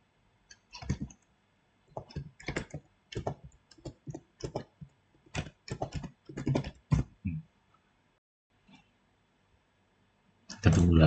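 Keys on a computer keyboard click in short bursts of typing during a computer networking lab exercise, the taps close and fairly quiet, separated by pauses, with another loud burst near the end.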